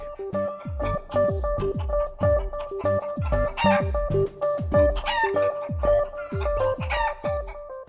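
Chickens cluck in a busy, continuous chorus nearby, with short rhythmic calls overlapping and a few louder squawks.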